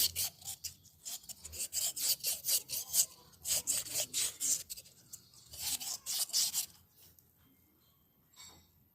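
Rhythmic scraping strokes of wet sandpaper rubbing a clutch slave cylinder bore from an Isuzu 4HF1, a steady series of short rasping passes that fade out near the end.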